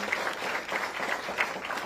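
Audience applause at a morning community event hosted by a Boys and Girls Club in Milwaukee, honoring Dr. Snell; a steady, moderate wash of clapping from a gathered crowd, fairly even throughout with no talk over it.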